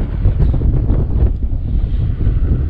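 Strong wind buffeting the microphone while cycling near Sabang Beach in Baler, Aurora, a loud continuous low roar with gusty swells and no talk.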